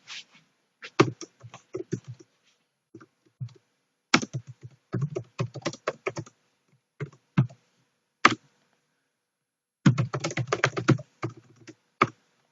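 Computer keyboard keys are typed in irregular bursts, quick close clicks with pauses between flurries, in a quiet room with no speech.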